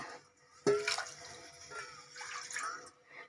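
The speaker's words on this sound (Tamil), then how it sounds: "மூணு கிணம் தண்ணி தாங்க வச்சுருக்கேன்" Water splashes suddenly into a pot of rice being readied for veg biryani, then burbles and gurgles unevenly for a few seconds, heard close up and fairly soft.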